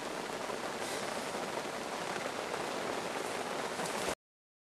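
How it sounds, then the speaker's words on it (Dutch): Steady rain falls at night at a fishing spot on a lake, a dense continuous hiss of drops on surfaces, close and even, ending abruptly. "alleen jammer dat het regent"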